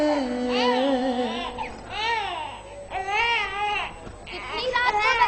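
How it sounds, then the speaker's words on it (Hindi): A baby girl cries at night, loud repeated wailing in rising and falling bursts with short gasping pauses between them, heard close and alone. "इतनी रात को बच्ची के रोने की आवाज आ रही है।"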